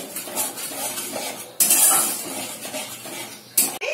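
Masala being mixed with half a spoon of salt and a spoon of sugar in a pan for milk paneer, heard as steady scraping and clinking of a utensil against the pan, with two sharper clatters and no talk.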